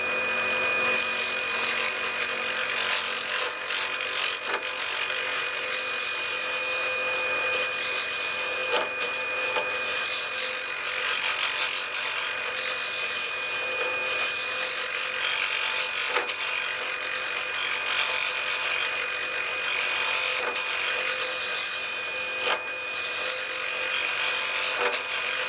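Walnut turning on a wood lathe with a round nose scraper, a continuous whirring hum with a steady high tone and scraping texture, occasional sharp ticks as the tool catches, no talking.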